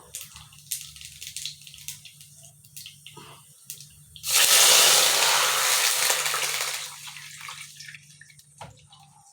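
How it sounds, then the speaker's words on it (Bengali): Water is poured into a hot pan of oil and spices while cooking a mustard fish curry, making a loud hissing, splashing rush that lasts about three seconds amid quieter kitchen clatter. "এবার জল দিয়ে দেবো"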